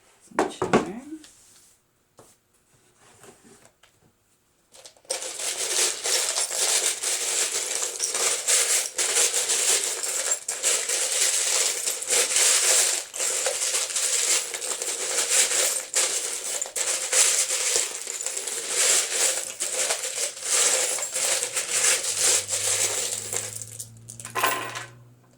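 Small metal charms are shaken and rattled continuously for a tarot-style love reading, giving a dense, steady jingling clatter that runs close and loud for about twenty seconds, then stops before a brief low hum.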